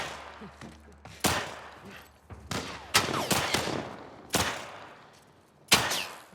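Bursts of gunfire in The Last of Us Part I, several sharp loud shots at irregular intervals, some close together, over a quiet background without talk.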